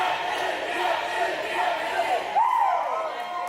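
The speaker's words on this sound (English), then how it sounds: "Philly warming up with a warm-up chant here" A Philly junior roller derby team shouts a warm-up chant, voices rising together in rhythmic calls amid a lively crowd, with a rising whoop near the end.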